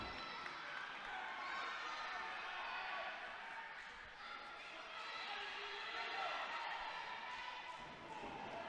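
A live crowd at an SFCW independent wrestling show in Loganville roars steadily for Xander Ramon and Drew Blood, a broad sustained wash of cheering and noise that swells and dips across the whole stretch.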